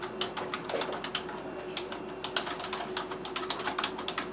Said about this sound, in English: We're going to start typing.